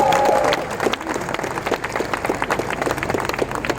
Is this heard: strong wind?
no